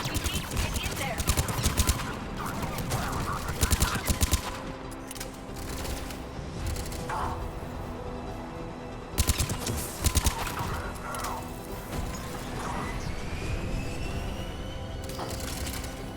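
Gunfire crackles through a firefight at a checkpoint in Mass Effect 3, with rapid bursts and single shots over a dense, busy battle backdrop, several sharp clusters standing out loudly.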